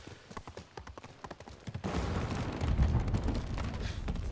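Hooves clop in a quick galloping rhythm as a horse is ridden in Ghost of Tsushima, close and steady, swelling into a denser rumble of running hooves partway through.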